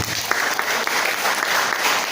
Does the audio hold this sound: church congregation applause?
yes